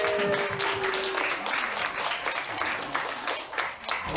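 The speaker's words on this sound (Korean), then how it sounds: "같이 또 박수로 환영해주세요." A church congregation applauds in welcome during a Sunday worship service, a steady, fairly close round of clapping from many hands that carries on for several seconds with little talk.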